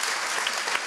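A live debate audience applauding, dense, steady clapping heard close up for a brief moment.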